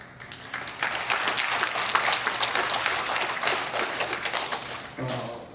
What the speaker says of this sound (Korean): 무이카 대통령이 이 박수 소리를 들을 수 있을 겁니다